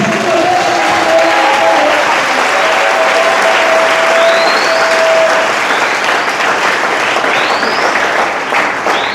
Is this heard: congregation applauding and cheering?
yes